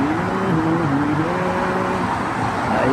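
Steady traffic passes along a street in front of a shop around midday, a continuous close wash of car engines and tire noise with rising and falling passes and no talk over it.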